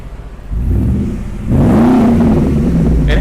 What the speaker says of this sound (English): go ahead and give it a little revs